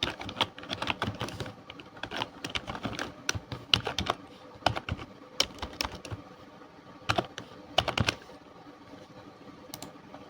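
A computer keyboard clatters as HTML code is typed, with quick, uneven runs of sharp key taps, pauses between the bursts, close and clear and free of talk.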